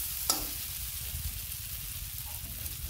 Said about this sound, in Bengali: মশলার সাথে ডিমের বড়া মিশিয়ে নেব